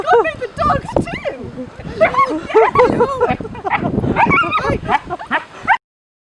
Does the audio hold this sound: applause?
no